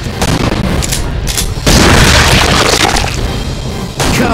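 Gunfire from the Primeval Hunt arcade shooting game, a dense run of loud booming shots packed close together, with a sharp burst near the end.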